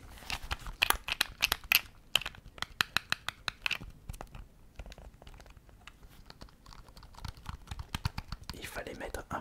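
Rapid clicky keystrokes on a small keyboard, close and crisp, with uneven bursts of taps and short pauses, ending in a soft rustling swell.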